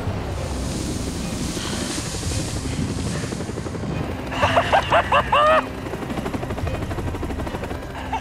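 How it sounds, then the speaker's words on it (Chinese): A helicopter arrives over a rough, windy outdoor scene with surf-like noise, its rotor a steady throbbing roar, while a brief run of squealing tones cuts in near the middle. "帝王组织的直升机突然来到了这里"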